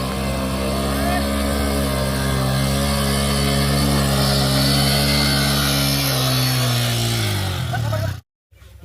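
A motorcycle engine drones steadily and loudly on a rural village road, its pitch rising as it nears before cutting off abruptly near the end.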